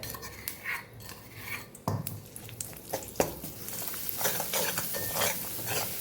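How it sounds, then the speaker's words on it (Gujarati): A prepared spice mix goes into hot oil in a pan with a soft sizzle. Faint scraping stirs and clinks of utensils come and go, quiet and close by. "અહીંયા આપણે જે મસાલો તૈયાર કરેલો એ આપણે અહીંયા તેલની અંદર ઉમેરી દેવાનો છે"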